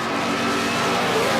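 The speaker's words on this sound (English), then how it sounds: "the only front-engine dragster left in Pro Comp Eliminator, powered by a small block Chevrolet, also supercharged and running on alcohol" Front-engine dragster powered by a supercharged small-block Chevrolet running on alcohol, racing in Pro Comp Eliminator at the 1977 NHRA Springnationals, its engine roaring loud and close in one continuous sustained blast.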